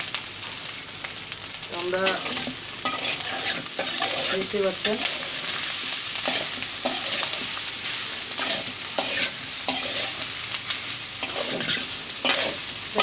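Leftover rice stir-fries with oil in a pan, a constant sizzle broken by scraping and stirring strokes. A person speaks briefly over the frying near the start.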